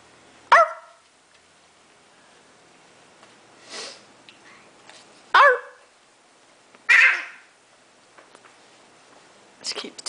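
A young girl at a dinner table imitates a dog barking, giving several loud, separate yappy barks spaced a second or two apart, close by, with quiet pauses between.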